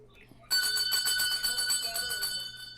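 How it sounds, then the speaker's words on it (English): A bell struck on a game show, ringing out loud and clear with a sharp attack and a shimmering tone that slowly decays over a couple of seconds in a quiet room. "Ring the bell"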